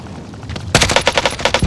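Automatic gunfire in Call of Duty Warzone trios play, a sudden loud burst of rapid shots starting partway through and continuing in a steady rattling rhythm after a quieter opening.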